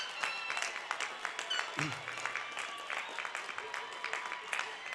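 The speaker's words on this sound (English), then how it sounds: "let's give these graduates a round of applause" A graduation crowd claps for graduates, a steady, fairly distant wash of applause running throughout, with a brief voice near the middle.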